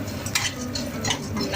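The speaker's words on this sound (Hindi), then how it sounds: "आज मैं कढ़ाई में भून करके दिखाऊंगी आपको" Laddoo ingredients being stirred and roasted in a kadai on a gas flame, a steady scraping and clinking of a spoon against the pan with soft sizzling, close and continuous.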